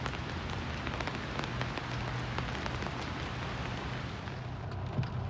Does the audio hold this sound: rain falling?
yes